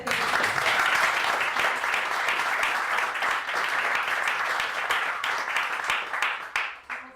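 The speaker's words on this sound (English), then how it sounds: "a round of applause" An audience at a composition award ceremony claps steadily in dense, sustained applause that carries on for several seconds before beginning to thin out at the end.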